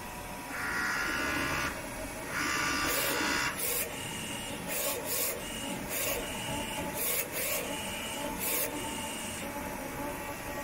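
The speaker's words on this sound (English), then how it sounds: "Then the printer will start to print a vertical test picture out." A Nebula-35F industrial DTF printer runs a vertical test print, its print head carriage sweeping back and forth with repeated rasping, whirring passes and short mechanical clicks, close and fairly loud with no talking.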